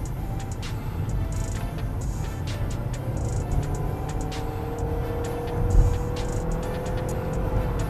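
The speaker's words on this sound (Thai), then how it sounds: "ลองทดสอบว่าเวลาที่เหยียบคันเร่งลงไปเต็มๆหมายถึงว่าต้องการให้เกียร์เนี่ยมันคิกดาวน์ลงมาแล้วดูว่าอัตราการเร่ง" A car with a CVT gearbox at about 70 km/h, accelerator pressed to the floor to force a kickdown, gives a steady engine drone under road and wind noise. It carries on throughout with no talk.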